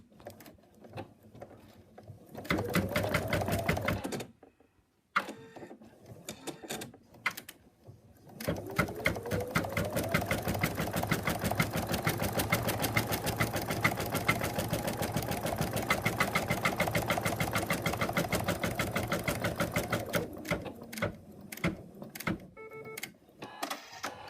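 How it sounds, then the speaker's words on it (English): An embroidery machine stitches an in-the-hoop moose, running in a fast steady mechanical whir for long stretches, pausing briefly, then resuming loud and close with no talk. "And then we take it to the machine and stitch it."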